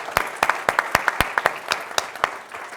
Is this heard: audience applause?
yes